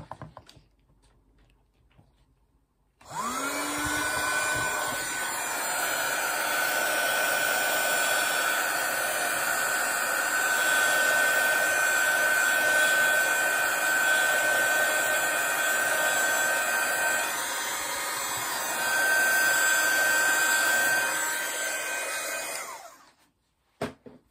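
A hair dryer drying watercolour paint starts abruptly and blows steadily with a loud, constant whoosh and whine for about twenty seconds, then switches off.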